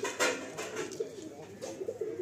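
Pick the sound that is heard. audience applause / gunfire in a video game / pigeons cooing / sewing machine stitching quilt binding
pigeons cooing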